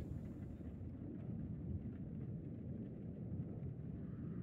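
Low thunder rolls from lightning in the horror game House of Ashes, a faint, continuous deep rumble with a soft noisy wash above it and no sharp crack.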